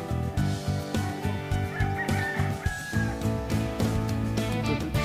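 Chickens on a dragon fruit farm keep up a steady, fairly close run of clucking and calls over a dense layer of background sound.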